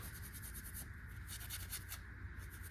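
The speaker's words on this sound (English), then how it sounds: "I will give it a little scuffing because this thing is a little dirty" Up close, a dirty water pump fitting for a modified 351 engine gets scuffed, producing faint, quick, rhythmic abrasive rubbing strokes in short bursts with no talking.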